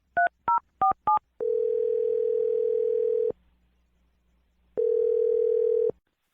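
Four quick two-tone touch-tone keypresses on a telephone, then a steady loud dial or ringback tone that stops, pauses in silence, and sounds again for about a second, with no voices.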